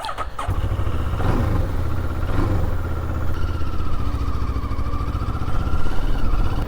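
A 2022 Moto Morini X-CAPE 649 motorcycle pulls away with a steady mid-pitched engine drone, a heavy bike growing slightly louder toward the end, with no talk over it.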